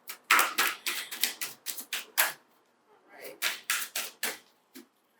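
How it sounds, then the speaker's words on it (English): A deck of tarot cards is shuffled and cut up close, making rapid bursts of crisp slapping and riffling that come in uneven clusters, with short pauses between them. "I've already shuffled, but I'm going to do a little bit more"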